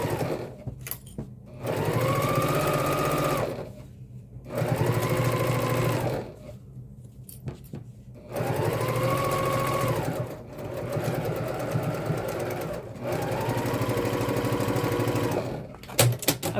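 A heavy-duty sewing machine stitches a messenger bag pocket in four steady, rapid runs of a few seconds each, separated by short pauses, loud and close.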